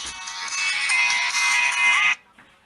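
A mobile phone ringtone plays loudly and continuously for about two seconds, then cuts off abruptly, leaving quiet background.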